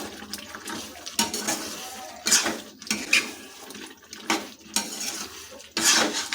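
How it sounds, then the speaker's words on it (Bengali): A ladle scrapes and clanks against a wok while jackfruit and shrimp curry with ground garam masala is stirred, with repeated metallic knocks and scraping strokes in an uneven rhythm, close and fairly loud with no voices. "গুঁড়ো গরম মশলা যোগ করে দিয়েছি তাই এটাকে আমরা হাতা দিয়ে কিছুক্ষণ নাড়িয়ে নেব"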